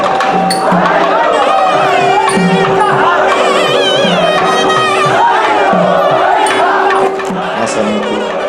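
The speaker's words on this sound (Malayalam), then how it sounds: "ആ സമയത്ത് കലശക്കാർ കിഴക്കേ നടയിൽ ആർപ്പുവിളിയോടെത്തുന്നു." Kalasham bearers shout the ritual aarppuvili at a Kerala temple festival, a loud, sustained crowd roar of many voices with a steady drone running underneath.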